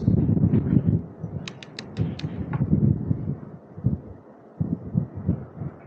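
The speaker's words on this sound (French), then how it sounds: "il y a un vent pas possible" Strong wind buffets the microphone while cycling along an estuary road near a lighthouse, with loud, gusty low rumbling that swells and fades throughout, plus a few brief clicks.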